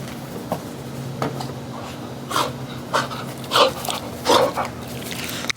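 A dog pants in quick, breathy bursts close to the microphone on National Dog Day, with a few short louder puffs standing out over a steady low hum in the room.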